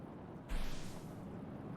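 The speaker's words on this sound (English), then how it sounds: "You love the in-game rain so much?" Steady hiss of falling rain in a video game, fairly quiet and continuous, swelling a little after the first half second and holding even with no voices.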